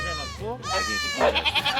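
A newborn kid goat and a mother goat on a farm bleat in quick, wavering calls at close range, the bleats repeating in a pulsing series while a person talks nearby.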